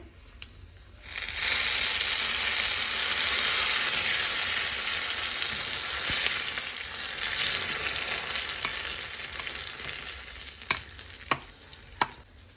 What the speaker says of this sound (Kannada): ನಾನು ಒಗ್ಗರಣೆ ಹಾಕೊಂಡಿರೋದನ್ನ ಹಾಕೊಂಡು ಕಾಯಿ ಚಟ್ನಿ ಒಳಗಡೆ ಮಿಕ್ಸ್ ಮಾಡ್ಕೊಂಡಿದ್ದೀನಿ